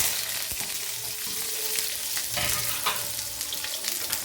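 Onions sizzling and frying in a pan for beetroot pachadi, a steady broadband hiss with occasional soft stirring clatters, close and continuous with no talking.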